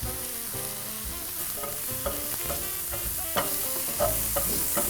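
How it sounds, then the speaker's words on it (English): Onions fry and brown in a pan as part of a vegan stuffing, a continuous close sizzle with light stirring scrapes and small clicks scattered throughout, no voices. "Onions are well cooked and then they're starting to brown, they're smelling fab."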